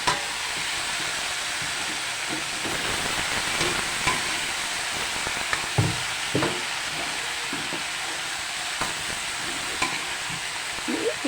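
Vegetables sizzle in a hot pan with a steady hiss, as a utensil stirs them and scrapes against the pan in periodic soft knocks, close and without talk.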